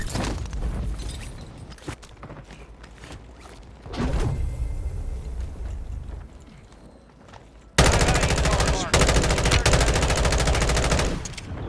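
M16 rifle fire in Call of Duty Warzone, several short bursts of gunshots followed by a loud, sustained stretch of rapid automatic fire near the end.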